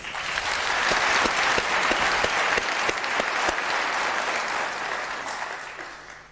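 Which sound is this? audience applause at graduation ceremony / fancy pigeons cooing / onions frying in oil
audience applause at graduation ceremony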